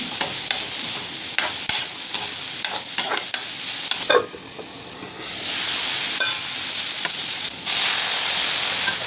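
Onions sizzle in a pan with clattering stirring strokes, half-sautéed, then the frying settles into a steady, hissing sizzle.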